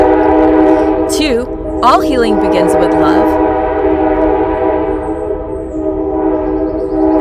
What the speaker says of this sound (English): but that's the train, and I can't hear very much.